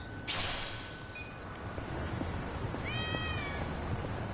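A cat meows twice in the video game Yakuza: Like a Dragon, short tonal cries separated by a pause, heard over a steady low game ambience with no speech.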